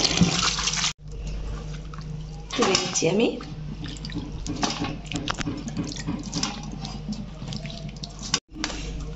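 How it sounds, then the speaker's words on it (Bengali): Cut snake gourd pieces are rinsed under running water in a sink, with a steady splashing stream and some sloshing. Someone talks over it, and there are brief breaks in the sound. "কাটা চিচিঙ্গেগুলো আমি ধুয়ে নিচ্ছি।"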